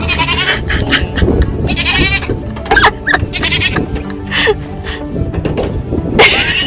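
A goat bleating several times close up, loud wavering cries spread over a few seconds amid handling noise and light background sounds.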